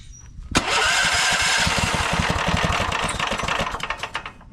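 A turbocharged 420cc small engine, running rich, fires up with a jump pack attached. A sharp catch is followed by loud, close, rough and uneven running that slowly settles.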